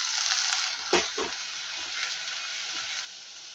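Cluster beans and a spice mix are tipped into frying onions, a steady close sizzle broken by a few soft thuds as ingredients drop in and get stirred, easing off near the end.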